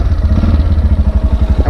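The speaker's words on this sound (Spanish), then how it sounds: "y la moto encendió." Motorcycle engine freshly caught after a push start, running loud and close with a fast, even thumping beat from the exhaust, no voices over it.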